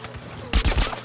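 Gun from the Plants vs Zombies Garden Warfare video game on Xbox One, a quick-reloading weapon holding three bullets, fires a short burst of rapid shots, loud and close, following a brief muffled lead-in.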